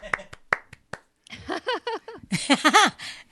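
A few sharp, separate claps open the moment, then singing voices with music take over, from a dance number of West Side Story, choreographed by Jerome Robbins.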